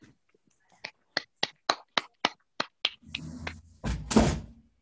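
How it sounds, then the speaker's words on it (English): Students in an English classroom lesson clap in about nine quick, crisp beats, close and clear, followed by a brief burst of louder scuffling and voices as the clapping ends. "Clap for Utar, all you"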